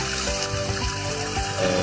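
River sand from Kampung Bile-Bile being washed in water to make a bonsai growing medium, a steady close trickle and slosh of water with no talking.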